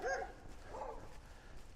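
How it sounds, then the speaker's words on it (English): Neighborhood dogs barking outside at a distance: one short, faint bark and a softer yelp rise over a quiet indoor room background. "you hear the neighborhood dogs out there making like they're all big and all"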